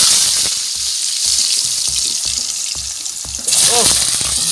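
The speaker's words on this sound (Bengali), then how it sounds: "উচ্ছে ভাজা হয়ে গেছে, তোমরা দেখতেই পাচ্ছ। আর এরপর আলুটা ছেড়ে দিচ্ছে।" Potatoes are added to bitter gourd frying in oil on a clay earthen stove. A close sizzle runs under regular light knocks and scrapes, then grows louder and brighter as the potatoes hit the pan.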